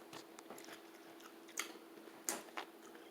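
Fresh cucumber being bitten and chewed up close, quiet wet crunches with a few sharper bites standing out against a faint background hum.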